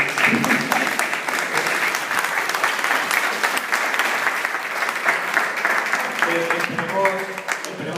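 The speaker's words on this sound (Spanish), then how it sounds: "que creo que se merece un aplauso" An audience at a public talk breaks into a sustained round of applause, even and continuous, with a few voices audible toward the end.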